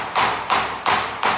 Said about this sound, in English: I usually go and bang the crap out of them on the stairs